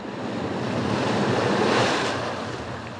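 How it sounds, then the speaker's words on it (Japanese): Rough waves surge and crash against a rocky shore, a loud continuous roar of surf that swells and recedes slightly, with wind noise and no voices. "荒波打ち寄せる磯の上"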